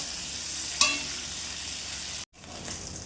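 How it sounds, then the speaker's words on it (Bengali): Bitter gourd frying in a pan with a little salt and turmeric, a steady close hiss of oil sizzling throughout, with one sharp spatter early on and a brief cutout before the frying resumes. "দিয়ে উচ্ছেটা ভালো করে লাল লাল করে ভেজে নেবো"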